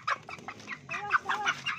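Chickens cluck and squawk at a poultry stall before slaughter, a cluster of short, close calls running throughout with no talk over them.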